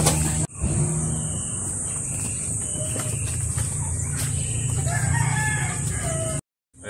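Farm chickens and a rooster crow and cluck against a steady, noisy outdoor background with a high insect-like hiss, continuous for several seconds before cutting out.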